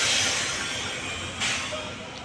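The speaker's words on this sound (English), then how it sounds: "Look at the train." A broad rumbling, hissing train noise fills the scene in Spanish Town, Jamaica, steady and fairly close, with a brief burst of hiss partway through.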